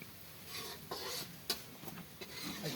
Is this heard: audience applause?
no